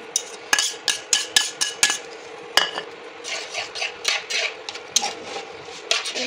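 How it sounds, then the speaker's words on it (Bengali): Utensil scraping and tapping against a pan while scrambled eggs are stirred into a dish, a run of sharp clinks early on, then softer continuous mixing and scraping close by. "এবার আমি যে স্ক্র্যাম্বল করে রেখেছিলাম ডিমগুলো দিয়ে মিক্স করে দিচ্ছি"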